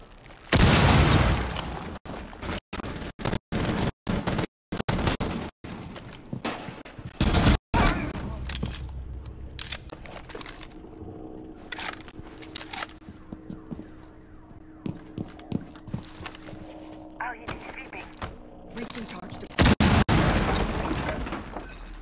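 A breaching charge goes off in Rainbow Six Siege amid a burst of rapid, loud gunfire and sharp cracks, followed by scattered shots and debris clatter, then another heavy blast near the end.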